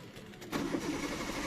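A Hyundai i10 with about 74,600 km on it cranking and catching, a brief starter whirr followed by the engine settling into a steady, fairly quiet idle nearby.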